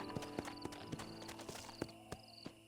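Horse hooves clip-clop at a steady trotting rhythm in the Red Dead Redemption video game, distinct repeated hits over a quiet background.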